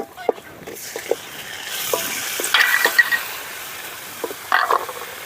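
Chopped tomatoes sauté in hot oil in a pan for a green moong dal curry. A steady sizzle sits under several sharp utensil clinks and scrapes from stirring, close up with no talk.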